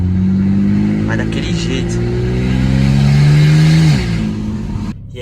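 A BMW Z4 engine revs loudly and steadily up through its range close to the microphone, then drops sharply as the throttle is released, with someone speaking briefly over it.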